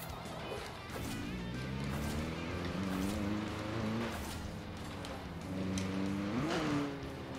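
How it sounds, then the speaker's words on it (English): C-Class car in Forza Horizon 4 with a grinding gearbox, a continuous rough engine drone whose pitch rises and falls as the car revs and shifts, steady and fairly loud. "that grinding of the gears shouldn't be there"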